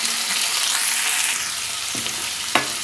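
Finely chopped carrot and tomato pieces sizzle in a hot pan of oil for semiya upma, a loud, close, steady frying hiss broken by a couple of sharp stirring scrapes toward the end.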